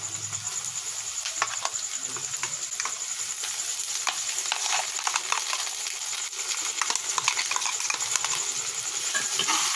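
Local chicken frying with ginger and garlic paste over a wood fire gives a continuous close sizzle, dotted with quick clinks and scrapes from stirring.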